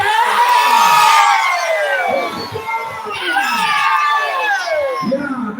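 A loud crowd at the 2023 Musabaqah Qiraatil Kutub competition at Dayah Manhajul Fata cheers and shouts in bursts. High children's voices whoop and scream throughout, swelling and easing across several seconds.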